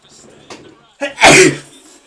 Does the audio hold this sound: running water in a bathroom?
no